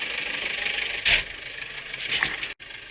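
A Perkins four-cylinder turbo diesel engine in a Case International 1394 tractor runs steadily nearby, a continuous rumbling drone with a few brief louder bursts.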